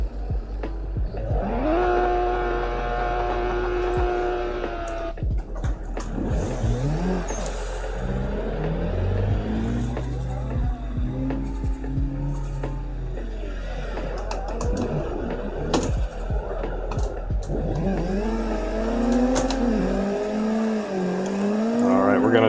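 Cars drift in the racing game Assetto Corsa, with engines revving and wailing in sweeping rising and falling pitches and occasional tire squeal. A low constant hum runs underneath and a voice speaks over the game audio.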